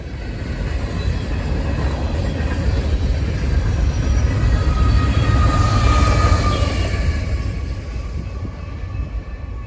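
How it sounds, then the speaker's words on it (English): A BNSF intermodal freight train rolls past in St. Cloud, Minnesota, giving a loud, steady rumble and wheel roar that swells toward the middle and holds throughout, with no voices. "The fifth train is the first northbound, or westbound."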